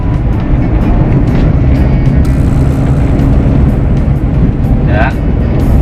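A manual car's engine revs to around 3000 rpm and is shifted into fifth gear, a loud steady drone close by with a brief whine near the end.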